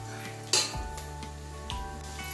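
Raw chicken coated in turmeric sautés in a pan, a soft sizzle under a few sharp metal utensil scrapes and clinks against the pan, close-up and without voices.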